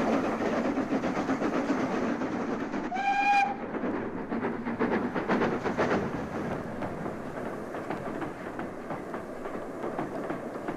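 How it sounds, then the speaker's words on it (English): A steam train whistle sounds once on the Somerset & Dorset Joint Railway, a short harmonic blast over steady rumbling rail noise and clattering wagons that carry on after it fades. "Thus, trains reach the next station, Cole."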